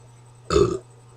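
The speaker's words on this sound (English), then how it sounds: "I burped." A single short, loud burp erupts close to the microphone, lasting about a third of a second against a quiet background with a faint steady hum.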